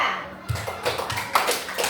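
Sixth-grade pupils in a classroom clap for a group after its presentation, brisk, scattered claps close by with a few louder taps and some children's voices mixed in.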